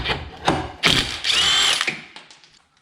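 Impact wrench spinning a nut off a car's suspension, several short loud rattling bursts over about two seconds that fade into quiet.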